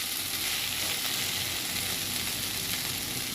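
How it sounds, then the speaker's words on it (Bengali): Green chillies fry gently in oil over a low flame, giving a steady, even sizzle that holds close and unbroken with no voices. "একটু হালকা একদম লো মানে ফ্লেমে এটাকে আস্তে আস্তে ভাজতে হবে।"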